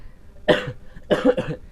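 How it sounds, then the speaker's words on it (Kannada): A single close cough followed by two quick coughs in a row, sharp and raspy, with brief quiet gaps between them. "ಸ್ವಲ್ಪ ಕೆಮ್ಮು ಇರಲಿ ಬಿಡಿ"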